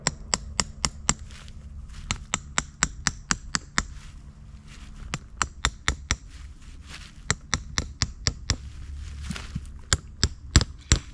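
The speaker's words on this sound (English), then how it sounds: "Great for hammering in tent stakes, as I'm getting ready to do now." Sharp metallic knocks in quick repeated bursts, a tent stake hammered into the ground by hand with the head of a Cold Steel Trail Hawk tomahawk, brief pauses between sets of strikes, close and loud.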